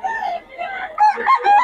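A rooster crows loudly and close by at a chicken market, a rising, strained call lasting under two seconds, with other fowl sounds mixed in.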